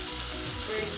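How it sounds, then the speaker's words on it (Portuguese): Ground beef sizzles steadily in a pan, put in still frozen to thaw as it fries for a quick bolognese pasta dinner; a continuous close frying hiss with no talk. "não deu tempo de congelar a carne, então eu vou descongelar ela na panela mesmo,"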